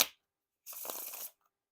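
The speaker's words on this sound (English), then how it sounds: "they riffle shuffle and bridge shuffle pretty smoothly" A brief riffle shuffle of an Ellusionist White Gold Knights playing card deck, a quick crisp burst lasting about half a second, close and fairly quiet, with no talking.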